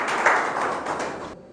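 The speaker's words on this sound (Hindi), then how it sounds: "आप सबकी जोरदार तालियों के साथ पूर्व विधायक मऊगंज सुखेंद्र सिंह बन्ना।" Audience applause greeting a former MLA of Mauganj at a public gathering, a dense steady patter of many hands that stays loud, then cuts off abruptly near the end.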